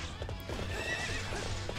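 A horse in the Hyrule Warriors video game neighs and gallops, steady clip-clop hoofbeats with a whinny over constant game background sound, fairly quiet in the mix.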